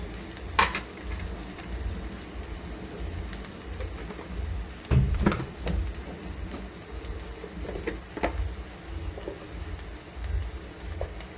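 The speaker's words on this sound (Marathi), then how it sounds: "कांदा आपला आता मस्त लालसर होत आलाय।" Onion frying in a pan for a capsicum and besan vegetable dish, a soft, steady sizzle with occasional clicks and scrapes of stirring, fairly quiet and close.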